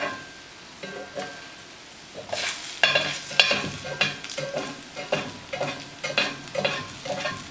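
Grease spatters and sizzles in a pan while a collard sandwich fries, giving loud, irregular crackling bursts that come close together and swell as the spattering builds.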